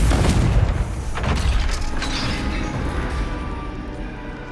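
A Confringo fire spell explodes in the video game Hogwarts Legacy, giving a loud booming blast that rumbles on for several seconds, with no voices over it.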